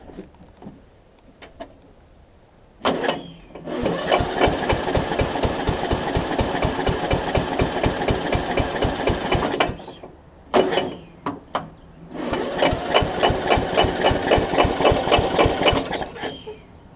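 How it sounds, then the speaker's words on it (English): A free Murray widebody riding mower, refreshed with a new carb and fuel lines, cranks hard but fails to start: two long bursts of loud, rapid, rhythmic starter chugging up close, separated by a few short clicks. "let's see if it will crank now"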